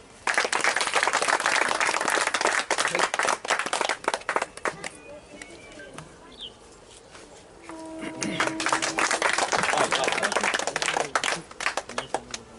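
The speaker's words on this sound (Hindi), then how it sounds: "ताली ताली बजाओ" Clapping at a casual family gathering: bursts of sharp hand claps in uneven clusters, close and loud, with a quieter pause midway and people talking around it.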